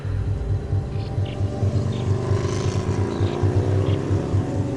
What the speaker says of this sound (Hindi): वही बाइक मुझे ओवरटेक करके आगे जाने लगी।